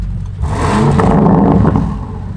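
A Lamborghini Aventador's engine revs hard in a rev battle. A loud, close mechanical roar swells up after a quieter start, holds, and then eases slightly.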